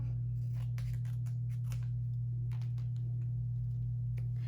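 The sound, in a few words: scissors cutting stickers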